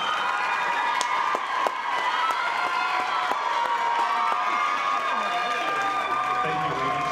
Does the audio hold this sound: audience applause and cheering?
yes